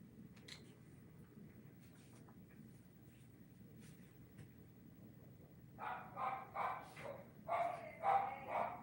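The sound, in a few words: dogs barking downstairs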